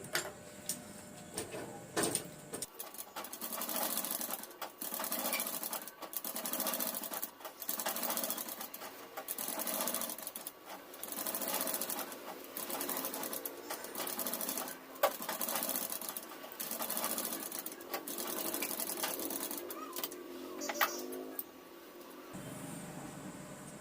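A tailoring sewing machine stitches a basic seam close up, running in a long series of rapid mechanical bursts separated by brief pauses, steady and fairly loud, with no talking.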